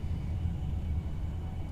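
Steady low rumbling hum inside a BR Class 390 tilting train running fast downhill on the West Coast Main Line, continuous and even with no voices.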